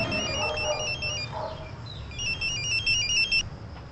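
A telephone rings with a repeated electronic trilling tone, moderately loud and near, two bursts separated by a short gap over a low background hum.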